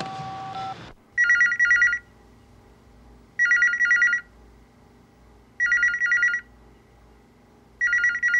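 An unanswered telephone rings in a quiet room, with four evenly spaced double-burst rings following a brief burst of other sound at the start, each loud and clear with steady gaps of silence between.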